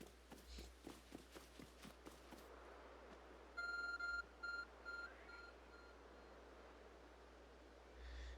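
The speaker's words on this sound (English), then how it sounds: "There's a glowing, beeping object over there." A beeping object in Pokémon Legends: Arceus sounds a few clear electronic tones in short bursts, following a run of soft rhythmic footsteps, all quiet against faint game ambience.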